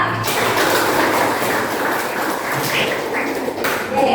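A school audience claps together at an assembly, producing a dense, steady wash of applause that holds for about four seconds.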